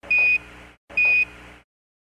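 Two short electronic beeps, evenly spaced, each a bright steady tone over a hissy, static-filled radio transmission, with silence between and after.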